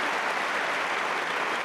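Crowd applause at a Wimbledon quarter-final tennis match between Serena Williams and Victoria Azarenka, a steady, dense wash of clapping that holds evenly throughout, with no talk over it.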